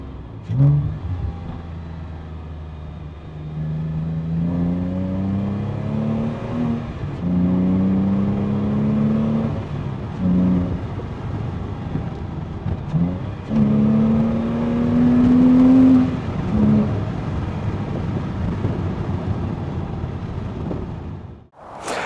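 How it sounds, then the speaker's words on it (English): A first-generation Porsche Cayman 987's flat-six engine with a sports exhaust revs repeatedly, rising and falling through throaty exhaust pulls, steady and close, with no talking. "you want a nice sound, you want to hear the flat 6"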